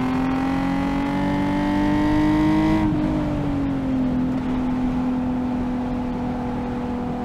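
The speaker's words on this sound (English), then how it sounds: "This engine sounds absolutely gnarly." A mildly modified Nissan 370Z with its VQ engine revs hard on a race track, a loud close-up whine climbing in pitch, then dropping sharply as the driver lifts off and settles into a lower steady drone.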